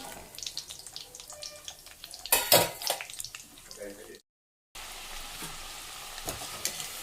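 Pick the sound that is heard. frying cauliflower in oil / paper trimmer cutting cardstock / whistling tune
frying cauliflower in oil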